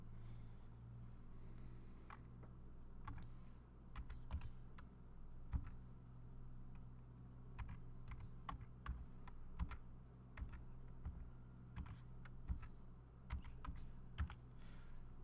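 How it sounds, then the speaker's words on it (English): A computer keyboard being typed on while entering codes during a Pokemon TCG Live pack opening stream: quiet, irregular clicking keystrokes in uneven bursts across the whole stretch, with no talking. "Always be careful when typing in your codes."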